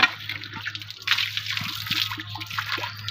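Water splashing and trickling as a woman washes her nose outdoors in a village, close, uneven splashes and dribbles over a faint hum.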